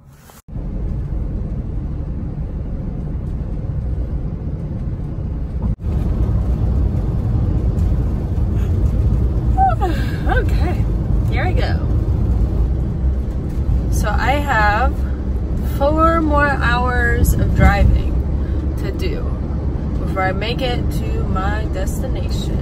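Road noise from a camper van cruising on a highway toward Phoenix, a steady low rumble throughout, with a voice talking intermittently over it.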